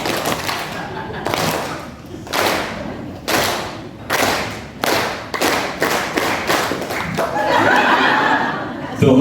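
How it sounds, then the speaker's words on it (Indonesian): A seminar audience claps in time with a presenter's hand signals, in separate bursts that start and stop on cue, with chuckles and murmurs between them. The clapping grows into sustained applause near the end. "Tepuk tangan sesuai gerakan tangan saya."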